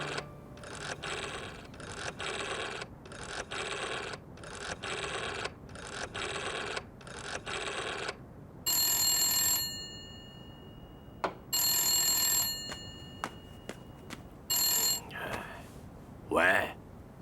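A telephone rings in repeated bursts of electronic trill, about seven short rings in steady rhythm, followed by a few brighter tonal beeps and clicks as the call connects, loud and close with no talk over it.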